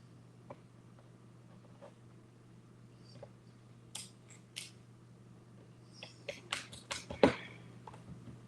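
Scissors snip through dress fabric in short, soft, scattered cuts, sparse at first and then quickening into a closer run of snips, quiet over a faint low hum.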